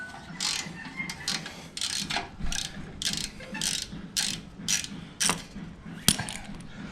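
A ratchet slackens an exhaust clamp on a Yamaha Bolt motorcycle, giving repeated close bursts of crisp pawl clicking in short strokes, about a dozen rhythmic runs with a sharper metallic tick near the end.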